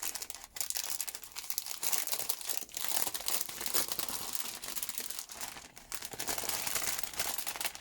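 Small plastic bags of diamond painting drills from an Advent calendar unboxing crinkle continuously and fairly close, a dense rustling crackle with short dips and no talking.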